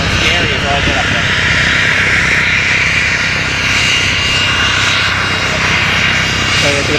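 A fixed-wing plane's engine drones steadily and loudly in flight, heard from the cabin as a continuous broadband roar throughout, with people talking over it.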